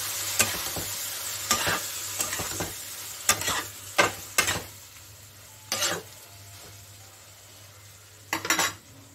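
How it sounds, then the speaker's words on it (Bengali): Vegetables frying in a pan as spice-washing water is poured in and stirred, giving a steady sizzle punctuated by repeated loud utensil scrapes and clinks against the pan, close and without talk. "একটু ভেজের মধ্যে আমি বাটি ধোয়া মশলা ধোয়ার জলটা দিয়ে দিচ্ছি।"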